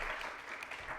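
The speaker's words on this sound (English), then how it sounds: "Please, a very big hand clap for him." Audience applause at the closing ceremony of an international water and sanitation congress, a dense steady patter of many hands clapping that fills the hall for about a second without pause.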